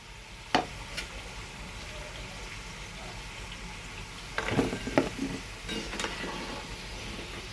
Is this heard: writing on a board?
no